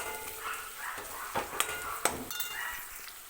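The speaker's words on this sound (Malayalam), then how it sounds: "ഇത് നന്നായിട്ടൊന്ന് പച്ചമുളക് മാറുന്നിടം വരെ മൂപ്പിച്ചെടുക്കുക." Onion, green chili, curry leaves and crushed ginger and garlic sauté in a pan, giving a soft sizzle broken by a few sharp clinks and scrapes of a stirring utensil against the pan.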